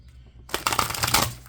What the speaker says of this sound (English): Let me just do a quickie shuffle.